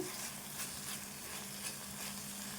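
Okra (bendakaya) frying in a pan, a dense, steady sizzle with soft crackles and occasional stirring scrapes, close and continuous, no voices.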